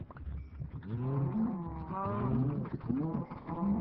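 Cows mooing in the Minecraft video game, several drawn-out, pitch-bending lowing calls in close succession at moderate volume with no talk over them.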